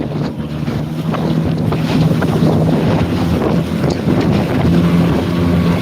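Wind gusting over a small boat out on the ocean, with loud, constant buffeting and wind noise on the microphone, water lapping below and a low engine-like hum, with no talk.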